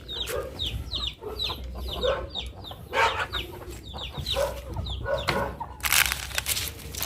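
A flock of chickens clucking nearby, with repeated short, overlapping clucks and squawks throughout, some louder outbursts, and faint crunching underneath.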